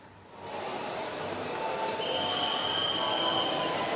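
Long-distance train at Pasar Senen railway station, a steady rolling rumble that swells in after a quieter start, with a high wheel squeal entering midway and holding, no voices heard.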